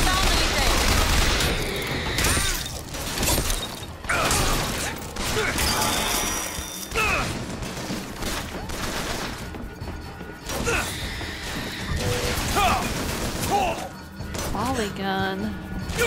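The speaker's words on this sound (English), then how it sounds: "Volley gun." A volley gun fires in the video game BioShock Infinite, with heavy repeated booming blasts, crashes and mechanical clatter through a chaotic battle, while a person talks over much of it.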